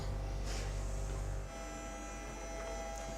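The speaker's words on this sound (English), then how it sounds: "you can hear there's a machine processing Pixie's blood in the background" A lab machine hums steadily while processing a rabbit's blood sample at a veterinary practice, a continuous mains-like drone with a heavier low rumble that drops slightly partway through, no talking.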